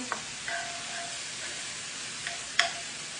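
Seasoning stirred into stuffed bell peppers over a steady frying sizzle, with a few scraping and clinking strokes of a spoon, the last one louder.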